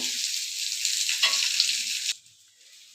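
Potatoes and cauliflower sizzling steadily in hot oil in a pan, a loud continuous frying hiss that cuts off abruptly about two seconds in, leaving near silence.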